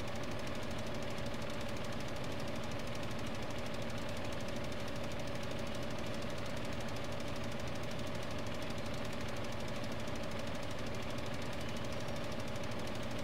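Tractor engine in Farming Simulator 15 drones steadily and loudly throughout with a continuous rumbling, knocking texture and no talk over it.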